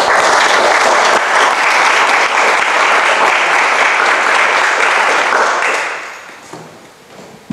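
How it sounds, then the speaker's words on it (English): Applause from a literary audience at an emerging writers' reading, a dense and loud burst of clapping that holds steady for about six seconds, then fades out to quiet room sound. "one of the last rounds of applause,"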